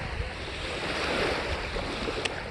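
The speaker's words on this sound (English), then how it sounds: "I don't know if you can even hear this because the water is so conveniently loud." Wind-driven waves wash and slap along a lake shore in a continuous broadband rush, with wind buffeting the microphone and a brief splash near the end.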